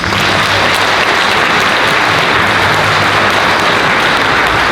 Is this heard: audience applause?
yes